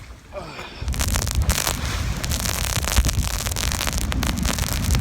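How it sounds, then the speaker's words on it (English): Dense, steady rain hammering down on a sailboat under way with a broad hiss and rumble, starting after a quieter moment and continuing loudly throughout, with wind and water noise mixed in. "Pissing it down with rain."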